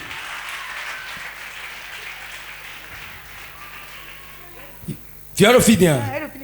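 A church congregation applauds the Holy Spirit with steady, crowd-wide clapping, then a loud burst of excited voices and shouting rises near the end.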